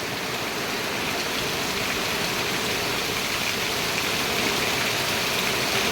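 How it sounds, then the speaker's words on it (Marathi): Heavy rain falls, with wind, in a Konkan village during rice planting, making a dense, steady roar that fills the whole stretch without any voices. "मरणाचा पाऊस लागू लागला"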